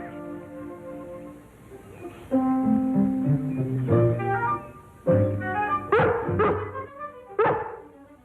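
A dog gives a series of yips and whimpering barks, several short bursts close to the listener, separated by brief pauses.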